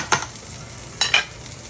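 Meatballs being stirred in a pot of Sunday tomato sauce, two short scraping stirs about a second apart, close and clear over a quiet kitchen background.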